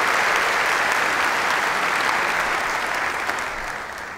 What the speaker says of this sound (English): You can give them a round of applause too.